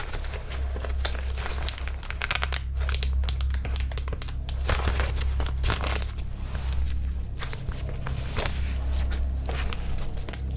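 Resealable plastic container being opened at the top and pressed shut again, steady close crinkling and crackling of plastic throughout, loud and continuous with no talking.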